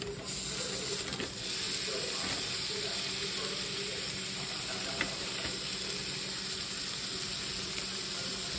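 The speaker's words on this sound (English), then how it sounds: "Next, we are going to add the ground beef." Ground beef sizzles in a pan alongside carrots and onions for a cheesy Bolognese, a steady, moderately quiet frying hiss with a few faint clinks and stirring sounds over several seconds.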